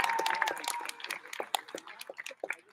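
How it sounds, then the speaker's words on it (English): Scattered claps and a few cheers come from families at an intermediate school commencement for the class of 2022, starting with a whistle and a voice, then thinning into sparse, uneven claps. "Let's give them a round of applause."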